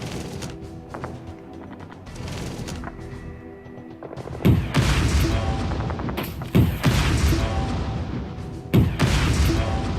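Tank cannon fire in the World of Tanks video game: three heavy booming shots with crashing reverberant tails over a rumbling battle background.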